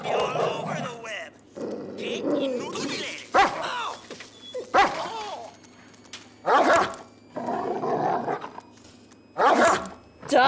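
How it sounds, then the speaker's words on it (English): Dog barking inside the GTA V video game, several sharp bark bursts spread through the clip in uneven rhythm, mixed with in-game speech and ambient city sound. "Dog is not happy."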